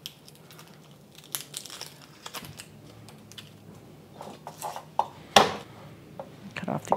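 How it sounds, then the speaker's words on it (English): Dry skins are peeled from two garlic cloves, giving light crinkling and crackling with scattered sharp ticks and rustles, fairly close and intermittent. "I've got 2 cloves of garlic. Just going to take the skin off."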